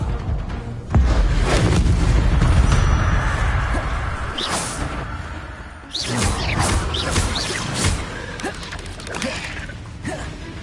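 The Incendio fire spell cast in Hogwarts Legacy in the forbidden forest: a heavy rumbling blast with whooshing flame that roars on for several seconds, followed by a second burst of crackling impacts, loud and close.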